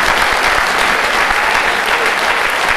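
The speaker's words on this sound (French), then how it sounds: "je vous propose de les applaudir" Loud, dense applause from a concert audience in Chaumont, steady and continuous throughout, with many hands clapping close together and no pauses.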